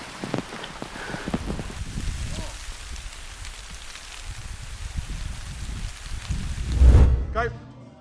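Steady rain falls outdoors on surfaces during a training session, a dense continuous hiss with soft patter, while people talk intermittently over it and a louder thump briefly rises near the end.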